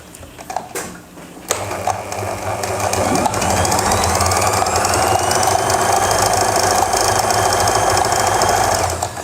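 A sewing machine runs steadily, double-stitching elastic onto trousers; a few short taps come first, then a loud, continuous motor whir with a rapid needle rhythm that holds for several seconds.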